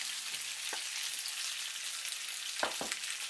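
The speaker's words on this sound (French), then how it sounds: "je mets le bœuf mariné." Marinated beef fries in a pan with ginger and garlic, a loud continuous hiss of sizzling oil that stays even throughout, with a couple of faint stirring scrapes near the end.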